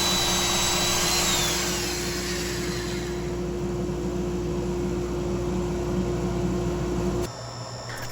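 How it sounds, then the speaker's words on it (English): A power sander works a turned wooden bowl on the lathe, a steady droning whine that holds close and loud throughout, then drops away abruptly near the end. "I power sand all of my bowls up to 400 grit."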